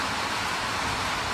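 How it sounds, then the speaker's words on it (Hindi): Heavy monsoon rain near a river in Rishikesh, a steady dense hiss of downpour with no voices. "बारिश का आवाज़ सुन सकते हैं"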